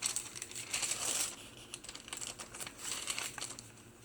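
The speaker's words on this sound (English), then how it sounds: "I like the sound of the paper." Embossed journal paper is handled and crinkled up close, soft crackling rustles and crisp crinkles coming in irregular bursts, quiet and intimate with no speech.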